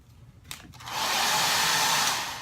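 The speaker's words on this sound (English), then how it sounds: "hair dryer." A Qi hair dryer switches on after a few clicks and runs with a loud, steady high-pitched whoosh, dipping slightly at the end.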